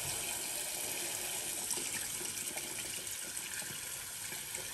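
Hot water runs steadily from a tap, a continuous hissing gush that fills the whole moment at close range, drawn for lathering shaving soap.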